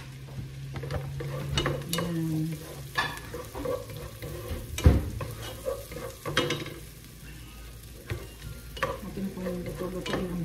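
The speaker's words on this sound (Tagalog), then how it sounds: "Atin po yung luto-luto ng bawang para mabango." Garlic sautéing in a pan for chicken tinola, with a steady sizzle and repeated scraping stirs, one sharp clank near the middle, close and fairly loud with no talk.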